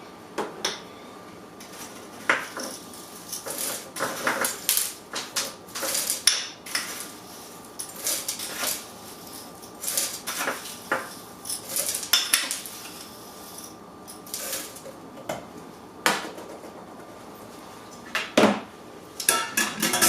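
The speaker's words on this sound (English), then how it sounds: "we're going to add about 6 tablespoons of our rock salt" Rock salt poured and shaken into a glass jar packed with ice for homemade ice cream, giving repeated bright clinking and rattling bursts at close range, no voices.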